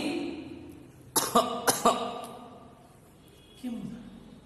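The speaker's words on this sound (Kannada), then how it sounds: "ಈ ಕೆಮ್ಮು ಸೌಂಡ್ ಕೇಳಿಸ್ತಲ್ವಾ?" Two short, sharp coughs in quick succession, fairly close, over a low background hum, followed later by a faint murmur.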